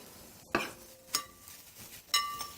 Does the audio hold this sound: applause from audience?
no